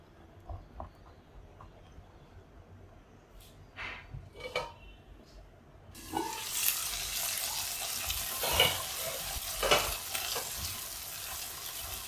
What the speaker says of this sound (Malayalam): മട്ടർ ഇട്ട് കൊടുക്കാം ഇതൊന്ന് ഇളക്കി എണ്ണയിൽ നന്നായിട്ടൊന്ന് വഴറ്റിയെടുക്കണം